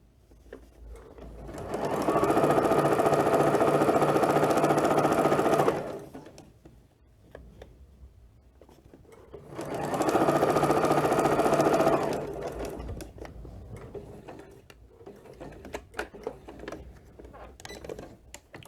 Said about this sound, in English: I start stitching right at the edge and keep going.